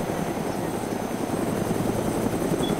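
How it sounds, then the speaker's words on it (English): A helicopter in the DayZ video game, a steady loud rotor thump and engine drone running throughout at close range, with no talk. "So apparently there's multiple choppers that can be on this server."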